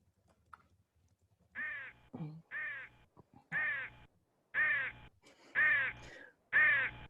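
A crow caws about six times in a slow, evenly spaced series, each call harsh and raspy, clear and moderately close against an otherwise quiet background.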